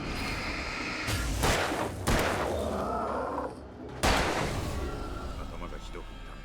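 Gunfire in the video game Alan Wake: a few heavy, booming shots with long reverberant tails, loud and close, spaced out over a dense low rumble.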